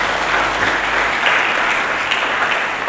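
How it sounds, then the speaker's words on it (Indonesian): A church congregation claps together during a sermon, an even, continuous wash of applause heard at moderate loudness throughout. "Mari kita berikan tepuk tangan bagi Yesus."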